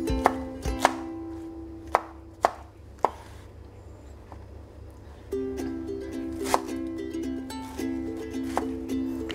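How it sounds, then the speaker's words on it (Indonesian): A knife chops pineapple on a cutting board for a sweet-and-sour squid dish, sharp, irregular thuds and taps sounding close over a steady low background hum, with no talking. "Kita mau potong-potong nanasnya ya."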